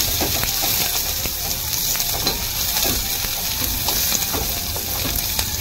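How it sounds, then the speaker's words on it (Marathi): Curry leaves crackle and sizzle in hot oil with cumin, mustard seeds and crushed garlic for a ragi puffed-rice chivda, a steady spitting fry with sharp pops and occasional stirring. "कढीपत्ता टाकूया"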